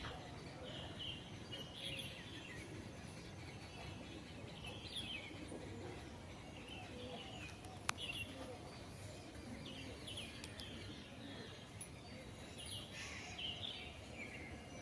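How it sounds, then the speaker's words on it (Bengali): Small birds chirp and twitter at sunrise beside a roadside path, faint and scattered over a soft, steady outdoor background, with a brief sharp click partway through. "পাখিদের কলতান।"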